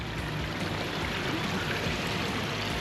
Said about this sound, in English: You can see all three waterfalls.